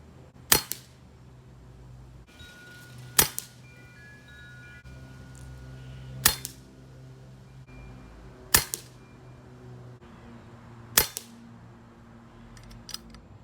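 Five sharp shots from an FX Wildcat MK2 air rifle, each a crisp close crack with a brief tail, evenly spaced about two to three seconds apart over a quiet background.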